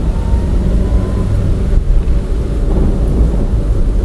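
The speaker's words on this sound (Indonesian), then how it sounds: "hujannya malah nambah gede." Heavy rain with thunder in the Sakura School Simulator game, a dense, steady roar of downpour with a deep rumble that swells and holds throughout, loud and continuous with no talking.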